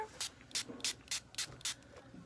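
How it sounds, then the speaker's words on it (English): Short bursts of aerosol polymer spray onto sand, about seven quick hisses in a steady rhythm, close and fairly quiet. "And spray some more."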